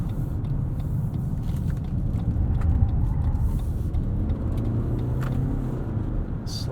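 A 2022 Lexus NX 350h Luxury AWD hybrid accelerates up a highway entrance ramp, heard from inside as a steady low road and engine rumble with faint tire noise and no speech.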